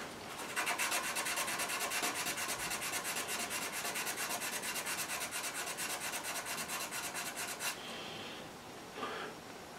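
Sandpaper rubs back and forth on a scooter part in a fast, even rhythm of close, dry strokes, then stops near the end, leaving quiet handling sounds.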